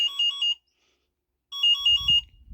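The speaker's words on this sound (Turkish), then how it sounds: "Görmüş olduğunuz gibi, duymuş olduğunuz gibi e, alarm çalıyor." A 2024 Mondial E-Mon Rigby electric scooter alarm beeps in two short bursts of rapid high chirps separated by a pause, clear and close, with a faint rustle at the end.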